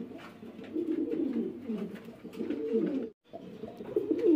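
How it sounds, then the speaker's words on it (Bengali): Pigeons coo steadily at a crowded pigeon market where Sirazi and Lahori breeds are sold, layered throaty calls rolling on with a brief gap near the end before the cooing resumes close by. "দর্শক দেখতে পাচ্ছেন দুই প্রকারের কবুতর"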